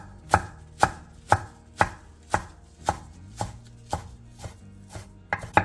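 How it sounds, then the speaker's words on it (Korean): A knife chops through stacked perilla leaves on a cutting board, cutting them into thin strips with about a dozen sharp, evenly spaced thuds, close and clear with no talking. "깻잎 8장의 꼭지를 잘라낸 뒤 길게 반으로 잘라 채 썰어주세요"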